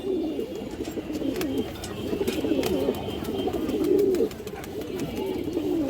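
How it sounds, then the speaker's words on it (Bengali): A female pigeon coos repeatedly among other birds at a pigeon sale, soft rolling calls rising and falling in a steady run, close and fairly loud, with faint sharp clicks and chirps above. "খুব সুন্দর একটা মাদি কবুতর আছে"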